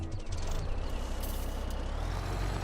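A truck in the Farming Simulator 17 video game, on a North West Texas farm map, gives a steady low engine rumble with a hiss of air brakes, running continuously without speech.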